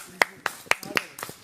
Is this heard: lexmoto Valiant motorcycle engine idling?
no